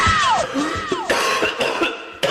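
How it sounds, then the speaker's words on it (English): Someone coughs after a hit from a bong: a loud, close burst of harsh, rapid hacking coughs, several in a row with strained, wheezy breaths between. "I know you're gonna cough."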